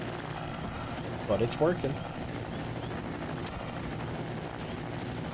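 A helicopter-like craft with a side propeller and jet engines mounted beneath the rotors hums steadily in the video game Trailmakers, a continuous low whir under brief speech.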